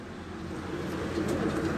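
Breeder pigeons coo softly and continuously in a loft, a low murmuring chorus with steady background bustle and no talk.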